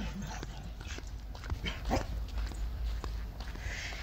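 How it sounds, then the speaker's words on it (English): A dog at the front of a house gives a few faint, short yips and barks in quiet surroundings, with soft talk nearby. "The dog's right there."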